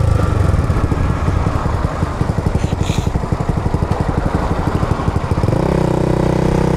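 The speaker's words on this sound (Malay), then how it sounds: "Yang motor aku ni brand Honda, model CBR 250RR." Honda CBR 250RR motorcycle riding at night, its engine a loud steady pulsing drone heard close from the rider's position, with the note dropping to a smoother lower hum near the end as it eases off.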